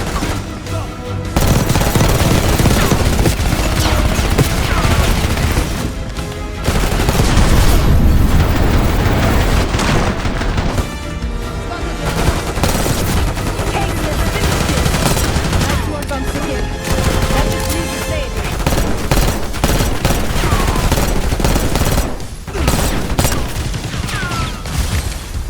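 Dense, loud automatic gunfire from a Call of Duty: Black Ops 6 video game battle, with rapid sustained bursts, overlapping shots and heavier booms throughout.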